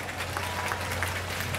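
Brief, steady burst of audience applause at an outdoor music festival, dense clapping from a large crowd that fades slightly at the end, with no voices over it.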